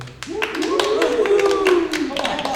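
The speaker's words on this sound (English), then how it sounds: "begin to clap and cheer loudly" A group of men clap and cheer loudly at a live staged musical reading, a dense burst of hand claps with a rising whooping cheer running through it, steady and close for the whole stretch.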